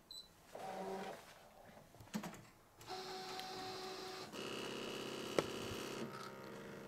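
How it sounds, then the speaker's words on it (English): A Brother ScanNCut machine cutting small fabric wing shapes makes a whirring motor hum with a few mechanical shifts and clicks, then settles into a steady, close electronic drone. "It's going to cut all those little wings in less than 1 minute."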